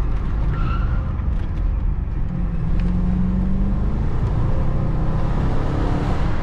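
BMW X5 E53 4.4i V8 driven in first gear through a tight corner on a winding track road, a loud, steady low engine drone with road and tyre rumble heard from inside the cabin, no talk.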